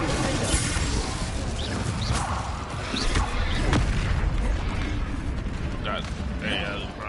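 An Incendio fire spell blasting in the Hogwarts Legacy video game, loud booming, crashing bursts amid busy combat noise, with a player talking over the action.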